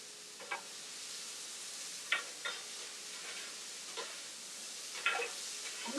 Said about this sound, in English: potatoes down on the grill